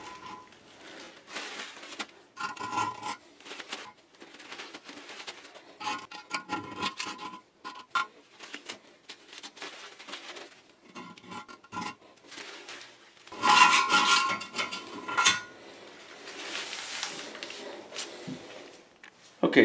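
Old wax seal being scraped off a toilet flange, a series of short rasping scrapes in irregular bursts, fairly close and modest in volume, with a louder stretch near the end and someone talking at times.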